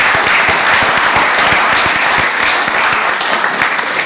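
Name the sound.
audience applause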